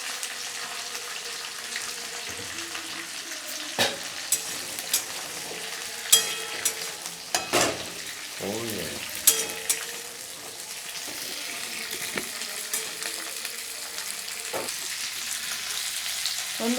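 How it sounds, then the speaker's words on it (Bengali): Chopped flat beans drop into a hot pan with garlic and fry in a steady sizzle, with a few clattering stirs and scrapes now and then. "এখন আমি এই টুকরো টুকরো করে কেটে রাখা সিমগুলো দিয়ে দিচ্ছি"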